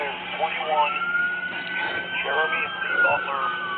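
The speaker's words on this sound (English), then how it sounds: "turn off the siren" A police siren wails steadily under overlapping voices talking nearby, its tone rising and sweeping across the clip.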